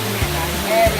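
The steady roar of Kor Luang waterfall in Mae Ping National Park, Li district, Lamphun, Thailand, fills the background while a voice briefly speaks over it.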